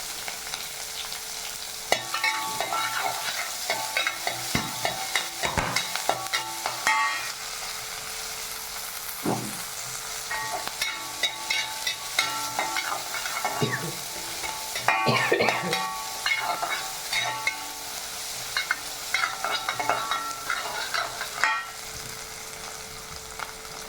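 Onions frying in a kadai, a steady close sizzle of hot oil broken by intermittent clattering stirs of a spoon against the pan, with no talking.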